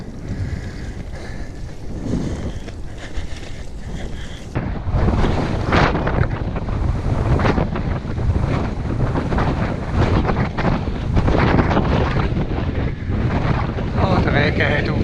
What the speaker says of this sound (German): Dafür hat der Wind angefangen.